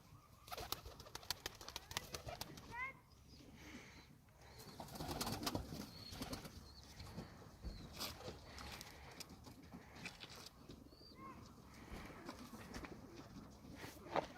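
Tumbler pigeons softly cooing and chirping close by, amid rustling, flapping wings and scattered clatter.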